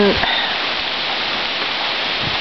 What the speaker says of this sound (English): so I thought I would come out here and sit in the rain with you guys.